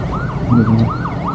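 An ambulance siren wails on a road, its rising and falling tone repeating steadily about every half second, loud and close over a low traffic rumble.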